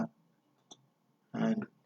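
A mouse clicks in Photoshop with the Alt key held, a couple of faint sharp clicks alone in a quiet room, followed by a brief louder burst.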